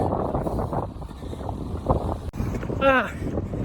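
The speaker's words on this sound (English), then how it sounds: "All right, it's windy out here." Wind rushes and buffets the microphone throughout, with a voice speaking briefly through the gusts.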